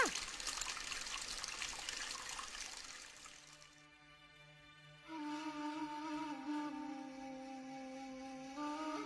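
Water gushes and trickles from a running pump motor left switched on, first a loud rushing spray, then a quieter splashing flow with faint tonal ringing and dripping, with no one speaking.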